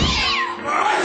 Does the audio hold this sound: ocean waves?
no